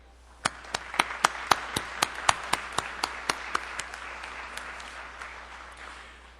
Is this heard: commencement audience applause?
yes